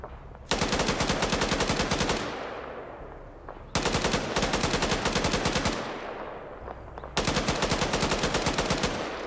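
Automatic weapon fire in Arma 3 during a patrol around Zargabad: three long sustained bursts of rapid shots, each followed by a fading echoing tail, fairly distant and steady.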